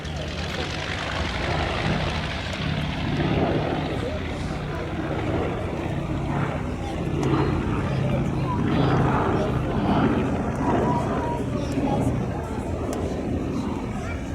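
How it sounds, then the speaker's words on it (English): Four-engined B-17G bomber at the Dunsfold airshow, its radial propeller engines producing a steady, loud, broad droning roar that holds without a break for the whole stretch, with low throbbing tones underneath. "This is the B-17G."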